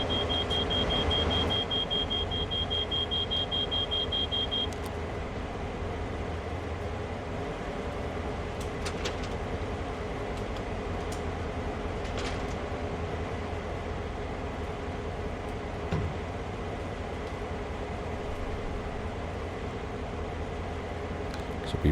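A train engine runs steadily with its brakes dragging, giving a continuous low rumble and grinding that fills the whole stretch, with a high electronic beep at the start and a few faint clicks along the way.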